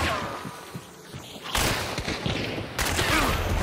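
Video game gunfire rattles in rapid, dense bursts, loud and nearly continuous, with heavier volleys surging in partway through.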